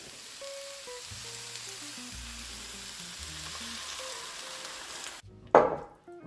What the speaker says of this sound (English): we are going to add it now to the stir fry